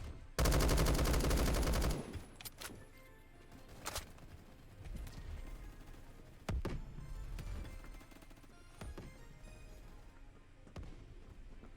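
Heavy gun fire in a Roblox shooter: a long sustained loud burst at the start, then scattered sharp single shots and short bursts at irregular intervals over quieter game noise.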